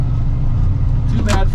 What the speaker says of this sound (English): we've got a four-wheeler up here.